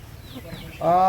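Colour-bred broiler chickens on a poultry farm give a sudden loud cluck near the end, following faint scattered bird sounds and low room noise.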